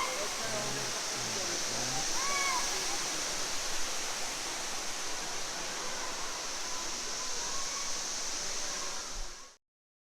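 Constant rushing roar of a waterfall at Matthiessen State Park, Illinois, close and steady, with a few brief faint voices early on before the sound cuts off at the end.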